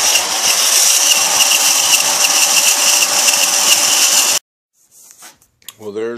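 A power tool cuts a slab of HDPE plastic about a quarter inch thick, giving a loud, steady, close grinding whine for several seconds before stopping abruptly, followed by faint handling sounds and a brief rising noise.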